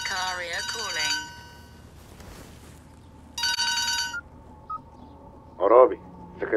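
A telephone rings in short electronic bursts, pausing between rings, with voices and background noise in between.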